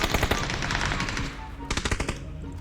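Rapid automatic gunfire in the video game PUBG, a fast rattling burst followed after a short pause by a second burst of shots, loud and close.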